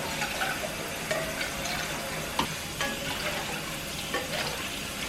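Water pouring steadily into a pan on the way to making mac and cheese, a continuous hissing, splashing flow with a few small clinks, moderately loud and close.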